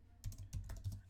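Keys on a computer keyboard are tapped in a quick, quiet burst of a few soft clicks, close and faint.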